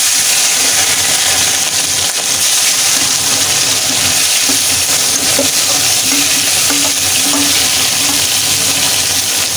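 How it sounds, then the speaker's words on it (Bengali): Spiny gourd (kankarol) pieces coated with turmeric fry in hot oil, a loud, dense, continuous sizzle close up with occasional stirring scrapes. "এই তেলের মধ্যে এখন আমি কাঁকরোলগুলোকেও ভেজে নেব।"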